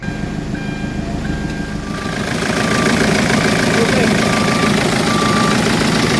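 A freshly rebuilt Hyundai Santa Fe engine idles steadily and then revs up to a louder, rougher running tone, close by and continuous.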